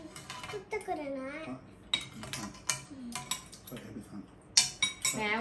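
A metal spoon clinks and scrapes against a bowl while scooping spicy instant tom yum shrimp noodles, with repeated sharp taps interrupted by voices of a woman and a child nearby.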